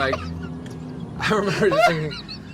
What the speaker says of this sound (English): That's the most pleasant bird I've ever heard.